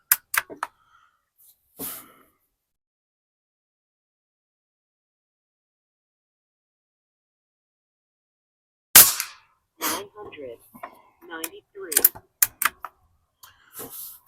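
Barra 250Z air rifle firing pellets and slugs at targets: a couple of sharp, close shots open, then after a long quiet gap another sharp crack followed by clicks and handling noises of reloading.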